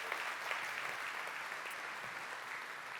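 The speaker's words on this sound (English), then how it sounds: "Applause to you guys." Audience applause at a community foundation's annual morning event, steady, continuous clapping from a crowd at moderate distance for about three seconds.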